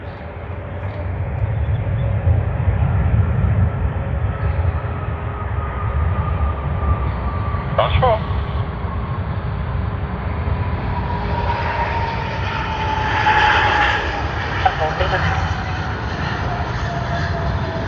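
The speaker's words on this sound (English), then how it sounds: "This is Qatar Airways Boeing 777-300ER." A Qatar Airways Boeing 777-300ER jet roars steadily at Sydney Airport, loud and continuous, with an Air Asia jet arriving in the background, its tone swelling and sweeping past mid-clip.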